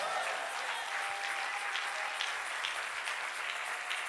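A church congregation claps in steady, dense applause that holds evenly throughout, with faint voices mixed into the crowd.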